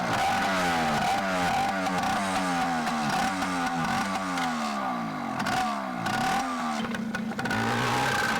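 A motorcycle engine revs hard while being ridden in Montana, loud and close, rising in repeated surges of acceleration and gear changes without any voices.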